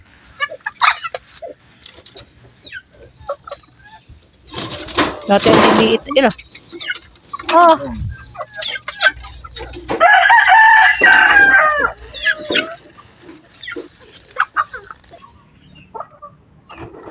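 Roosters crowing loudly and close by among a flock of farm chickens, with clucking and scattered bird calls, while people talk in Filipino over the birds.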